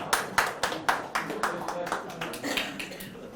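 Lecture audience clapping in a Korean hall: a run of uneven hand claps, sharp at first and then thinning into scattered, softer claps over a few seconds.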